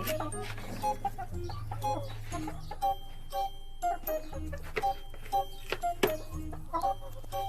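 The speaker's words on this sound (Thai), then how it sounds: "มาให้อาหารน้องไก่กันนะคะ" Backyard hens in a small flock of about five to seven birds cluck and chatter in short, repeated bursts while being fed pellet feed, a steady low hum running underneath.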